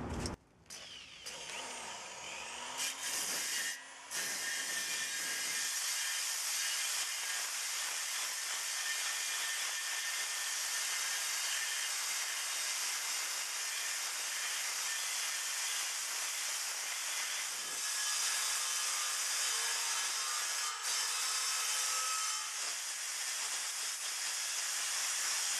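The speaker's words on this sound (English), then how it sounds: "Last stage of the clean up, stripping tool." A stripping tool on a power drill grinds and hisses harshly against a metal birdcage burner during cleanup, starting with a few stops and starts, then running loud and continuous up close.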